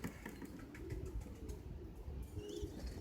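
Soft, low cooing of young Czech pigeons against a faint outdoor background, with occasional light chirps and fluttering.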